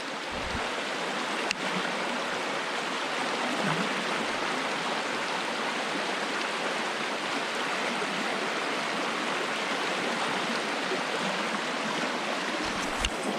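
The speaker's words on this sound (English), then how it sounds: "I've seen rivers more narrow than this, but yet they call this a brook" A brook rushes over large mossy boulders in a wooded watershed, a dense, continuous close-up roar of flowing water with no voices.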